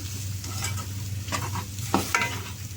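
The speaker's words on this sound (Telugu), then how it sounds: "5 నిమిషాలు అలా అడుగంటకుండా మనం తిప్పుకుంటే సరిపోద్ది అన్నమాట" Crabs with onion and chili powder are stirred as they fry in a pan, a soft continuous sizzle overlaid by a few scraping strokes of the spatula against the pan bottom, close and without speech.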